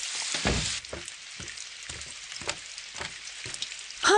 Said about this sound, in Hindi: हाँ, अरे बारिश शुरू हो गई।